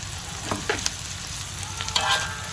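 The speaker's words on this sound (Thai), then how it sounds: "เดี๋ยวรอให้คั่วหอมเสร็จแล้วเราก็จะคั่วปลาต่อค่ะ" Karen-style roasted chili paste sizzles in a pan, with a steady frying hiss and the irregular scrape and clack of stirring, close and moderately loud, without talk.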